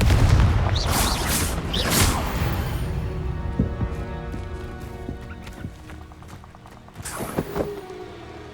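A Confringo fire spell in Hogwarts Legacy bursts with booming explosive blasts at the start, followed by crackling impacts and scattered thuds amid game effects.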